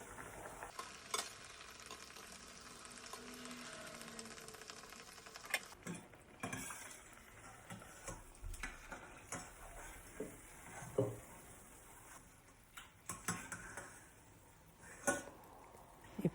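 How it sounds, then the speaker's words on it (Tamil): Potato smileys deep frying in oil over medium heat until golden brown, a steady quiet bubbling sizzle with scattered light taps and scrapes of a utensil, close by and without speech. "மிதமான சூட்டில் கோல்டன் ப்ரௌன் வர வரைக்கும் பொரித்து"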